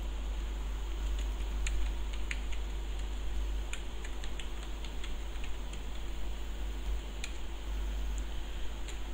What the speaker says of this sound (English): So here type the program.